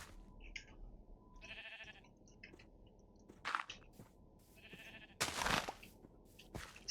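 Blocky sheep in Minecraft bleat in short synthetic bursts, several spaced calls at moderate volume among crunchy game sound effects, with no talking.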